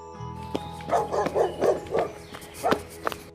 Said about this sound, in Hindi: ये कुत्ता तो जोर जोर से भौंक रहा है।